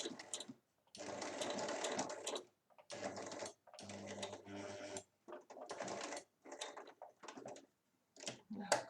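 A sewing machine stitches fabric for a large lined drawstring pouch, running in several short bursts with brief pauses between, close and fairly quiet.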